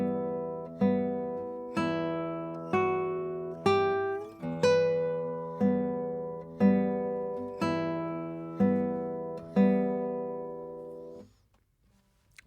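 A classical guitar plays the opening four bars of the waltz "Vals", with about a dozen plucked notes and chords in a steady rhythm. Each rings out clearly and alone before the last fades to silence.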